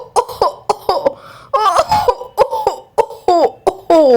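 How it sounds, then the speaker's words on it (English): A cartoon character coughs repeatedly in a Peppa Pig story about a cough being passed around, a rhythmic series of sharp close coughs with a short voiced rasp in the middle, loud and alone. "Dr. Brown Bear has got Pedro's cough too."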